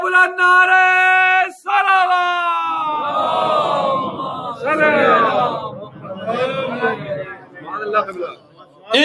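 Crowd at a Muharram majlis loudly chanting salawat slogans, a sustained unison call followed by rising overlapping shouted voices and chatter, loud and reverberant throughout.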